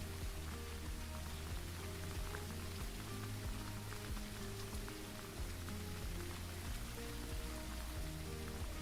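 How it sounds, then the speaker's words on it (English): Steady rain falls in the duck hunting game BULT Hunting Simulator at sunrise, a dense, even hiss of drops on surfaces that continues without a break, with faint low tones of game ambience beneath and no talking. "it's a lovely rain sound"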